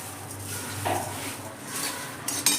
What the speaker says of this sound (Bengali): এবার কিন্তু তেলের সঙ্গে বাদাম ছোলা সমস্ত কিছুর সঙ্গে ভালো করে নেড়ে নেব